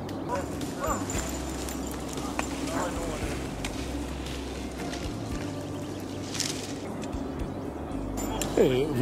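A working horse at Montagne Saint-Pierre walking slowly and gently, with soft hoof steps under a steady outdoor background and faint voices nearby.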